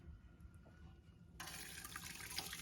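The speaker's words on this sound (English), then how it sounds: "I'm gonna pour the elderberry" Elderberry syrup is poured from a container into a strainer set over a glass bowl, starting as a soft liquid stream that becomes a louder steady splashing pour in the second half.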